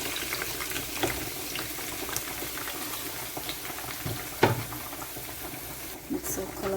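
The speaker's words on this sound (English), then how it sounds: "I'm gonna get down to business to fry up my seasoning and prepare my ackee and my saltfish" Oil sizzles and spits steadily in a pot as seasoning for Jamaican ackee and saltfish is sautéed, with occasional stirring clinks and a few sharper pops over a constant close frying hiss.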